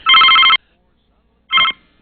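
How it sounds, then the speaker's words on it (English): A telephone bell rings in two bursts, a long ring followed by a shorter one after a pause, loud and close, with no talk over it. "There goes your phone again."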